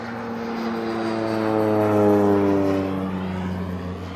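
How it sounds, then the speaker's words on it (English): A propeller-driven light airplane drones steadily overhead above a delta fishing spot, its harmonic engine hum swelling to a peak near the middle and then fading slightly, with no talk over it. "we got a plane coming over, but let's just wait for this guy to come over"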